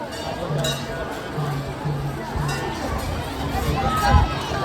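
Devotees pack the Ramapir temple in Lalpur, their steady babble of voices and movement filling the space, with occasional nearer speech and a faint clink near the end.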